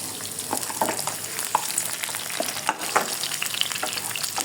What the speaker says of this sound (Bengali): ভাজাটাকে দেখো তুমি নেড়ে দিচ্ছি